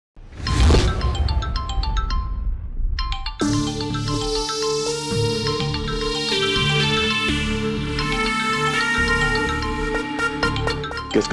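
A burst of sound gives way to a mobile phone's melodic ringtone that plays on and on, steady and clear with a repeating electronic tune.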